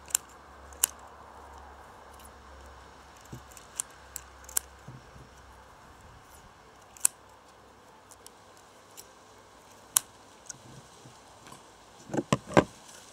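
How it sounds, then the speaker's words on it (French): Scissors snip tall grass into small pieces for a natural guinea pig meal: sparse, sharp cuts scattered through a quiet room, with a quick cluster of snips near the end. "comme ça rentre pas, je vais couper par petits bouts"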